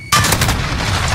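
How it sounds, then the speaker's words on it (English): A shotgun blast in a first-person shooter game, with a loud sudden onset that carries into a dense, rumbling tail of continuous gunfire for about a second. "he's just using a shotgun"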